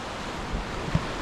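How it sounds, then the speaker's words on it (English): Crawford Creek runs strong with spring runoff beneath a bridge, a steady broadband rush of water that stays even and close throughout, with no voices. "that water is flowing really strong"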